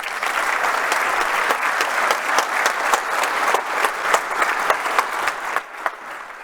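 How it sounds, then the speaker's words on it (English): A conference audience applauds after a presentation by the governor of the Central Bank of Chile, dense steady clapping that holds loud and even for several seconds, then thins slightly toward the end. "let's give another round of warm applause to Mrs. Rosanna Costa's presentation"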